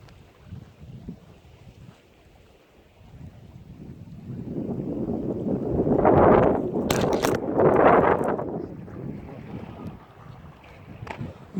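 Strong gusts of wind blowing at a village lakeside, rising to a loud buffeting roar against the microphone in the middle before easing again, with no voices.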